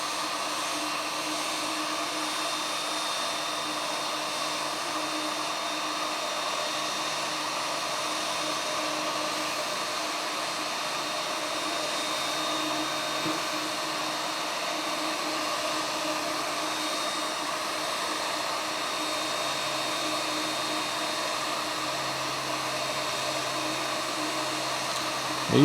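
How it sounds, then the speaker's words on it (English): A heat gun blows a steady, even whooshing hum for nearly half a minute while warming a plastic router table split fence part to soften it, close and alone with no talk. "I've got my heat gun out. I've turned it on. And I'm going to slowly heat up this"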